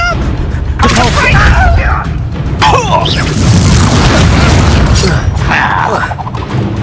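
Spellcasting in the Hogwarts Legacy video game: a run of loud booming spell blasts and crashing impacts, with a character shouting over the combat.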